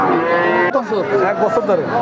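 A one-year-old heifer calf moos loudly and close by at a cattle market, one long drawn-out call followed by a wavering lower bellow, with faint background murmur.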